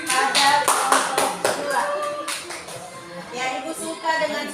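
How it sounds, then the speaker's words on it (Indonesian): Students in a classroom clap for a group that has just presented, a burst of fairly loud, irregular hand claps that starts strong and tapers slightly over a few seconds, with faint voices in the background. "beri tepuk tangan dulu pada kelompok"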